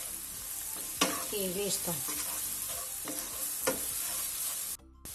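Paprika stirred quickly in a sizzling frying pan while cooking a pig's trotters tomato stew, steady frying hiss with scraping stirs and a few clinks, someone speaking briefly near the end.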